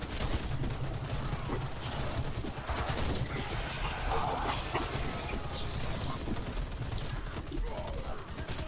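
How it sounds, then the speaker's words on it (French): Dense, rapid gunfire crackles almost nonstop during a cooperative match of the shooter game Warface. Overlapping shots of varying distance form a steady, busy volley. "je crois qu'il y a un mec qui me tire dessus, moi, et qui tire sur les autres"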